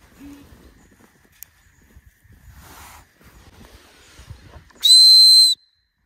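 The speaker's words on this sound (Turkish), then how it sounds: "Düdük." A single short, loud, shrill whistle blast sounds at a campsite, preceded by several seconds of near silence with faint rustling and footsteps.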